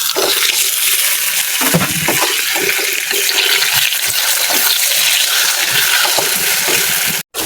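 Taro stems are tossed into a frying pan with browned hilsa fish head, producing a loud, continuous sizzle and crackle with a short break near the end.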